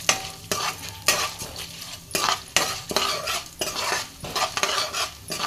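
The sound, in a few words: stirring chana dal and urad dal frying in pan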